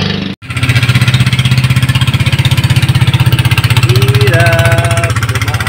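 A small motorcycle engine at close range chugs in a steady, loud, rapid pulse on a flooded road during monsoon rains. Its rhythm holds steady for several seconds, then rising whine tones climb over the chug near the end.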